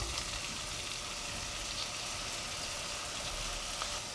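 Chopped tomato sautéing in oil for a Tamil fish gravy gives a steady, even sizzle that runs unbroken the whole time with no talk over it.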